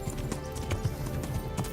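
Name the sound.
horse galloping hooves in a horse race, video game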